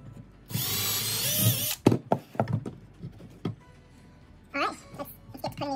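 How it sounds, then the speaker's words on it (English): A power drill whirs loudly for about a second while driving screws into a wooden antler mount, followed by knocks and thunks of handling, then a brief second whir, with a voice talking in between. "putting these screws in here"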